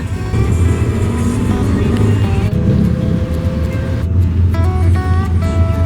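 Riding inside a Grab taxi car in Bali, heading to Jimbaran: a steady low road and engine drone with tire noise fills the cabin continuously, with faint tonal sounds layered on top near the end.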